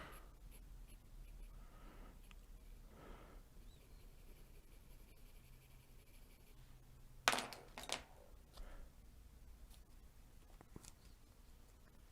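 Pencil drawing a kingfisher on paper, faint soft scratching strokes under a quiet room hush, with a couple of sharper taps and scrapes midway through.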